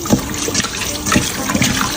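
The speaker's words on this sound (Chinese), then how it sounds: "这个给它多清洗2遍" Pork ribs being rinsed in water with a little flour, a steady splashing and sloshing of water as the meat is worked by hand, close and continuous.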